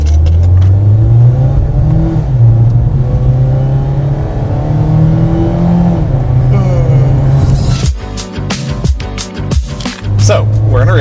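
A Mazda Miata RF with an automatic gearbox accelerates hard from inside the car, its engine note rising through loud, repeated revving climbs before easing off, followed by clunks and rustling and some talk.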